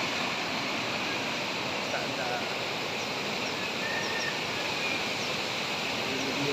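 Heavy rain pouring alongside a rushing river, a dense, unbroken wash of noise that holds steady and fairly distant throughout, with no clear voices over it.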